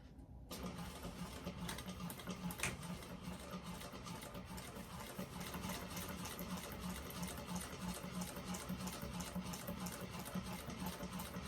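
A sewing machine runs steadily for the whole stretch, stitching a second seam line an eighth of an inch beside the first on a Madeleine bag, with a constant mechanical whir and rapid needle clatter.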